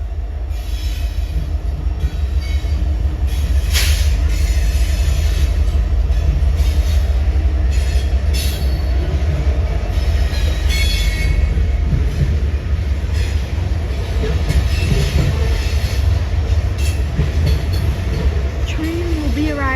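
The TVRM Missionary Ridge Local train rolls in with a loud rumble, screeching wheels and metallic squeals, the steady roar filling the whole stretch.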